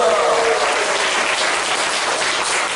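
A church congregation claps steadily for a person being introduced at a commemorative worship service, the applause thick and even from start to finish, a voice briefly audible under it at first.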